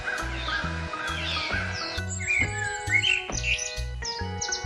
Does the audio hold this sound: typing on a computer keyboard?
no